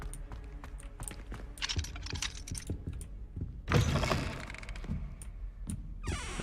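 Lock mechanism in Hogwarts Legacy clacking and clicking in quick irregular taps, with a louder rattling burst midway and soft game ambience beneath, no voices.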